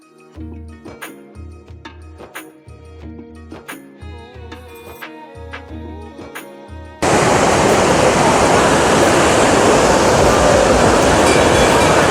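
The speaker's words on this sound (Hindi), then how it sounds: "सरस्वती नदी का ये उद्गम स्थान है। ये सरस्वती नदी यहीं से निकलती है माना गांव से" After a stretch of rhythmic music, the Saraswati river at its source in Mana village, Uttarakhand, comes in as a loud, continuous rushing roar of fast-flowing water.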